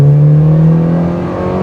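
Mazda NC Miata accelerating on the highway at speed, a loud, steady engine drone with a slowly rising pitch and road and wind noise beneath it.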